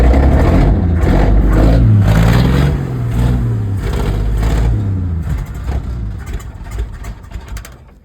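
A 1969 Chevrolet C30 truck rescued from an oil field, with a bad throttle and a suspected knock, revs loudly up close, its engine swelling and falling through several throttle pushes before settling into a rough idle.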